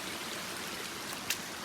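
A small side creek runs beside an Appalachian Trail loop near Slaughter Creek, giving a steady, even rush and trickle of flowing water, close and moderately quiet, with no voices over it.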